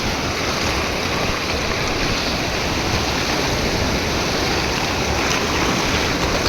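Bhima river floodwater rushing over the submerged Daruwala bridge at Rajgurunagar, a steady, loud broadband roar of flowing water that stays constant throughout with no pauses.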